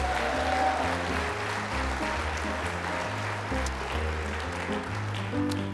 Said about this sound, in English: How about a round of applause for our Dora Maxwell winners?